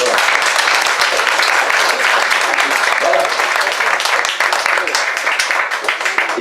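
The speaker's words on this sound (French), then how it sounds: "je crois que vous pouvez l'applaudir pour commencer" An audience at a festival author gathering in France claps for the host, a dense, steady round of applause lasting several seconds, with a few voices mixed in underneath.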